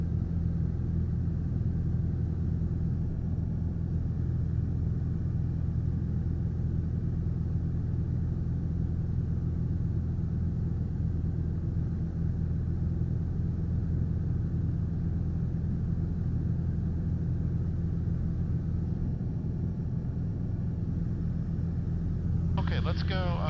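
A small training airplane's piston engine drones continuously in flight, a dense steady rumble heard from inside the cabin throughout, with no break in the noise.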